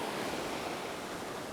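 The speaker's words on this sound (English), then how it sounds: "the waves can crash like really strongly here" Ocean waves crash onto a black sand beach in Madeira, a steady, full roar of surf close by with no pauses and no voices over it.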